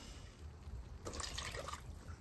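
Milk poured into a hot pan on a stove for a pub style burger, a faint, soft splashing trickle lasting under a second over a low background hum.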